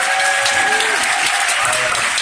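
Audience at a Powell's bookstore event applauds a photographer for a book's photographs; loud, dense, continuous clapping fills the space, with a faint voice or tone briefly audible underneath.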